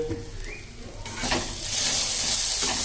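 Green pea filling sizzles and fries in a pan as it is stirred, a loud close crackle that swells into steady hissing frying with brief scraping stir strokes.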